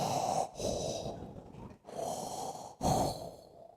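A voice imitates Darth Vader's heavy, mechanical breathing: three long, harsh breaths in and out, loud and close, with a rasping, hissy texture.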